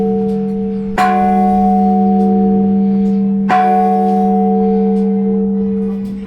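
Two loud strikes on church bells dating from 1896, a few seconds apart, each ringing with a long sustained hum that lingers between hits, close by and unaccompanied.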